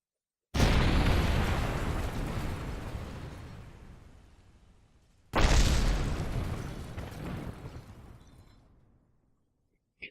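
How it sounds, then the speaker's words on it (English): An old spacecraft breaking up as it falls into the atmosphere in Kerbal Space Program: two heavy, rumbling explosion bursts, the first long and slowly fading, the second following midway, loud and with no voices. "It exploded."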